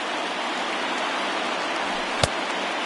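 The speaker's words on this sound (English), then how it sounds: "the rain starting to intensify here. It's coming down a little heavier now" Steady rain falls on a video-game baseball game between the Pirates and Marlins in a wild card matchup, a dense even hiss that continues throughout, with one brief sharp knock near the end.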